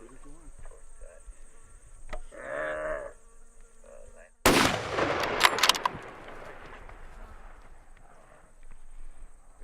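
A rifle shot at a stag during a hunt in New Zealand: one loud, sharp crack that rings out after quieter outdoor sounds and a brief voice, then fades into the background.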